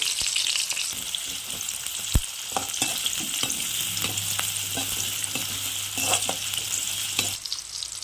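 Onions sizzling steadily in hot oil for an aloo mushroom peas curry, with scattered clicks and scrapes of stirring and one sharp knock.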